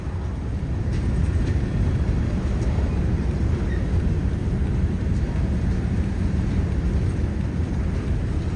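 Tropicana freight rail cars being switched near the Fort Pierce plant in Florida, a steady loud low rumble of rolling wagons continuing throughout without pause.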